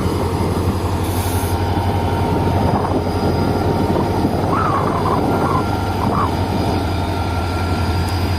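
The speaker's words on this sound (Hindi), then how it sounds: "HMU 30R ट्रेन की लीड पर एक बेहतरीन लोकोमोटिव पाकिस्तान रेलवेज का।" A Pakistan Railways locomotive heading the HMU 30R train rumbles past loudly with a steady low engine drone and rolling wheel noise, plus a few brief squeals, with no voices.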